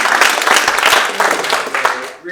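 An audience applauds after a presentation with dense, steady clapping from many hands throughout, tapering off at the very end.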